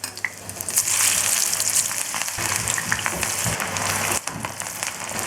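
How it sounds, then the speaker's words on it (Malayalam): Ivy gourd (kovakka) pieces fry in hot oil, a loud, close, continuous crackling sizzle with brief popping spurts and no voices. "ഇതുപോലെ തിളച്ച എണ്ണയിൽ വേണം ഇട്ട് വറുത്തെടുക്കാം."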